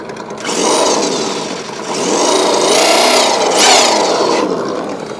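A Mattel 1/10 scale Justice League Batmobile revs its simulated engine, the whining, buzzing pitch rising and falling in three distinct surges as the throttle is pushed, loud and close.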